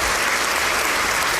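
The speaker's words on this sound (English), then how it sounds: "round of applause for that" A round of applause from a group, dense and steady clapping that fills the whole short stretch at an even level, with no voices over it.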